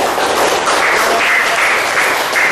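Schoolchildren in a primary classroom clap for a student group, a brief and fairly loud burst of mixed hand claps that holds steady throughout.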